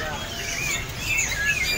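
Small caged Japanese finches, including albino birds, chirp at a bustling bird market, high twittering calls overlapping continuously against background bustle and faint voices.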